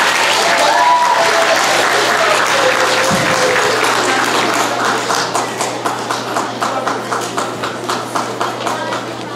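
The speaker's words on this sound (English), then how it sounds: "Let's give another round of applause, okay?" An audience at an elementary school geography bee applauding, with a dense burst of clapping that thins into a few distinct, rhythmic claps near the end, while talk carries on underneath.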